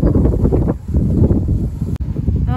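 Gusty wind blows through a garden on an overcast day, a steady rushing roar buffeting the microphone, loud and continuous with a brief dip.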